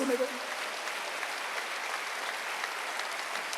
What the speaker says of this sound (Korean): 박수하지.